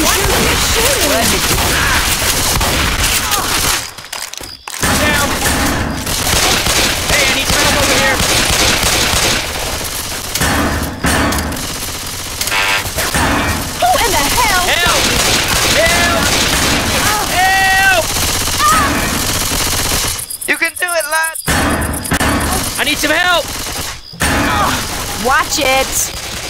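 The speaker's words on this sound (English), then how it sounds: "Why are you shooting?" Rapid gunfire and bursts of shooting in a zombie co-op shooter, Left 4 Dead 2, crackling almost continuously with brief lulls, while characters shout and talk over the fighting.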